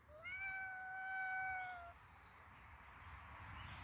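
A cat gives one drawn-out, clear meow lasting nearly two seconds, close and fairly quiet, followed by soft background hiss.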